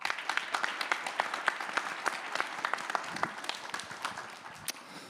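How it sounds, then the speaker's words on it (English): A crowd at a business pitch event applauds steadily as a presenter is welcomed to the stage, a dense, sustained patter of many hands clapping at moderate distance with no talk over it. "can we give a big round of applause and welcome to the stage Adam Hopp"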